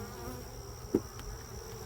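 Honeybees buzz around an apiary hive during a mite check, a faint steady hum with one brief closer buzz passing midway.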